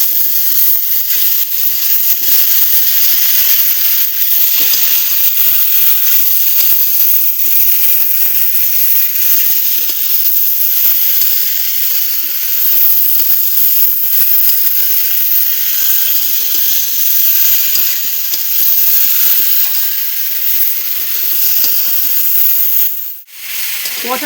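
A spice paste of cumin, ginger, coriander and green and dried chilli sautés in a pan for a Bengali drumstick, potato and lentil-fritter curry, a steady close hissing sizzle that runs throughout, with a brief louder burst near the end.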